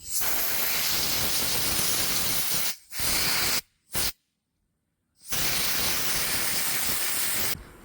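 Compressed air hisses loudly in long blasts as dust is blown off a Craftsman chainsaw, cutting out briefly twice and stopping for about a second before resuming steadily.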